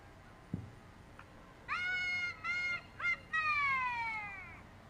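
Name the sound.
unusual fire department siren at a Christmas parade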